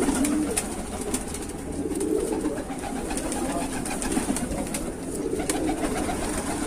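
Pigeons coo softly in low, murmuring calls amid faint background noise and occasional light clicks, with no one speaking; in Bareilly, Uttar Pradesh, India.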